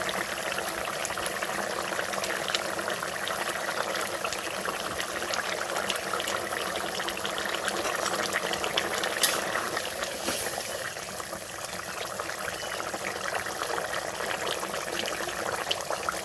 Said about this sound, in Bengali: এই তো দেখেন বলক চলে আসছে